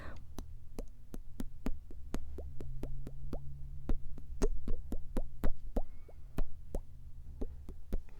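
A person imitates water with their mouth, making a steady series of sharp, close plopping and dripping clicks over a faint background hum.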